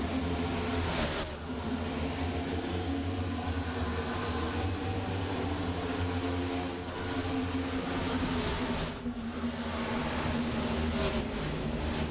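Sim racing stock cars roar off at the start of a race at Kansas in a video game, a dense, continuous pack of engine drone and revving that swells slightly, loud and steady without speech.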